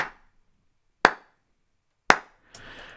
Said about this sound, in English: and then we have the dry clap and the reverb together.